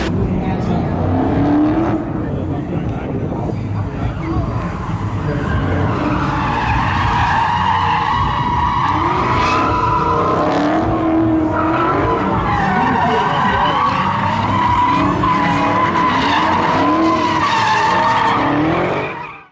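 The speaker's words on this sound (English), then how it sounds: "I'm hearing some screaming tires" Tires screaming loudly as a truck skids and spins at a Mecum car auction event in Las Vegas, a sustained wavering squeal with engine roar, continuous and close.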